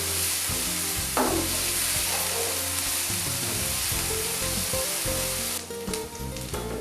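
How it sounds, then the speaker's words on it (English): Onion, ginger and garlic frying in a pan while being stirred: a loud, steady sizzle runs throughout, broken by scraping stirs close by. "fry your onion, ginger and garlic until it is nice and brown"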